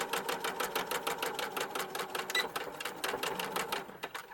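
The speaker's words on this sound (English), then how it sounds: "So we're just going to sew the side of the pocket" A sewing machine stitches the side seam of a pocket on a color-blocked coat, a close, rapid and even mechanical chatter running continuously before easing slightly at the end.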